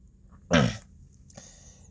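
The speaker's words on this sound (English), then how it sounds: "I have to cough" A single sharp cough bursts out, followed a moment later by a fainter second catch in the throat, close and otherwise quiet.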